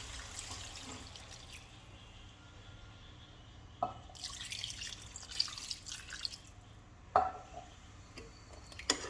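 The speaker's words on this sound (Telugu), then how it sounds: "2 glasses వాటర్ యాడ్ చేసుకోవాలి." Water trickles and drips into a pot at close range, with a few sharper splashes and clinks, no talking.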